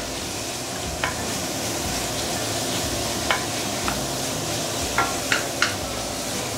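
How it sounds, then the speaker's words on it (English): Pork belly sautéed and stirred in a pan, a steady loud sizzle of rendering fat with occasional sharp scrapes and clicks of a utensil against the pan, close and without talk. "we need to keep on stirring this for at least 3 to 5 minutes"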